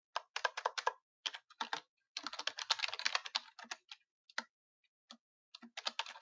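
Fast bursts of keystrokes on a computer keyboard, clattering in quick clusters separated by short pauses, close and clear with no talking.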